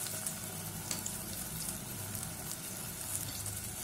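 Onion, curry leaves and tomato sauté in a hot pan for white pattani masala kulambu, giving a soft, steady sizzle throughout with light stirring noises.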